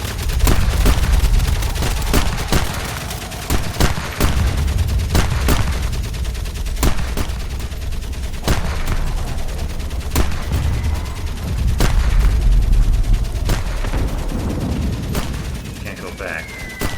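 Gunfire in the World War I video game Valiant Hearts: The Great War: loud, repeated sharp shots and bursts crack over a constant low battlefield rumble.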